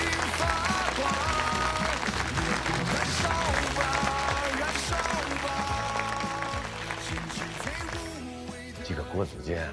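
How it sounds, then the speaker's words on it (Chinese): Soldiers of a military battalion burst into sustained applause together, a loud dense wall of clapping with crowd noise and voices mixed in, holding steady before easing slightly toward the end. "鼓掌！"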